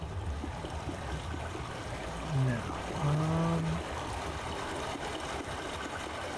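Water flowing through a pipe in Myst, a steady rushing trickle that runs throughout at moderate level, with a short low tonal sound partway through and a brief voice at the start.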